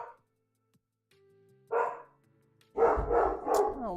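A single close bark is followed by a quick run of three loud barks from a dog indoors, with a quiet pause and faint hum before them.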